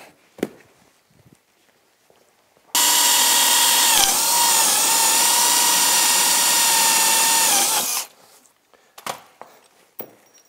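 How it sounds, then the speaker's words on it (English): A power drill whines steadily for about five seconds, loud and close, drilling rivets into a snowmobile seat, bracketed by quiet clanks and handling noises before and after. "drill these rivets into place"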